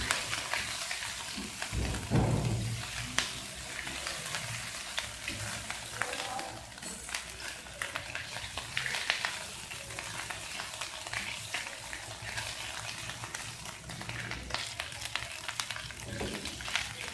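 Pizza sauce of tomato puree and ketchup cooking in a pan, a soft continuous sizzle with occasional stirring scrapes, faint and steady throughout.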